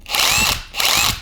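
A cordless drill on clutch setting 1 whirs in two short bursts with a brief pause between them. The motor's high whine is close and loud, and no one speaks.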